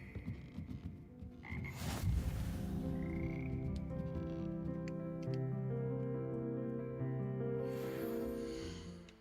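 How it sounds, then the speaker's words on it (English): A frog choir in the game Hogwarts Legacy croaks in layered, sustained tones, several pitched voices holding notes together, close and clear. "Here perch the slimy symphonic frogs that comprise the Hogwarts frog choir."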